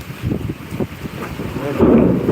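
Low rumbling thunder with a steady wash of heavy rain and gusty wind noise in Mulkanoor, swelling louder toward the end.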